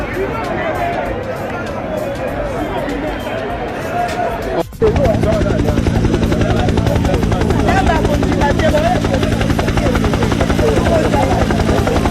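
A helicopter's steady rotor thrum roars close overhead and dominates the scene, with crowd chatter and a loud thump partway through.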